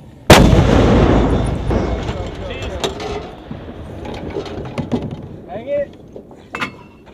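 A 120mm mortar round fired by an armor unit during a military training exercise: one loud, sharp blast opens, rolling out into a long echoing rumble, while voices talk and shout faintly in the background.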